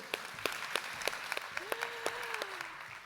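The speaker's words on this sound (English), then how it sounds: "Let's give her a round of applause" Audience applause after a talk on pandemic prevention, sparse, separate claps spread across a few seconds with a brief voice passing through the middle.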